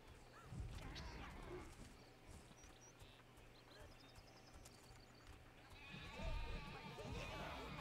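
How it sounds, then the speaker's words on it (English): Sheep bleat in a rough, animated scene, their cries mixed into a busy layer of noise and commotion, with voices also present. "Kill the sheep,"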